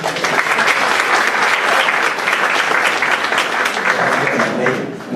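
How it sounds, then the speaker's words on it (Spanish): Loud, sustained applause from an audience in a university main auditorium greets the acting rector at a socio-legal research conference, a dense, steady clapping that fades slightly at the end. "Recibámoslo con un gran aplauso"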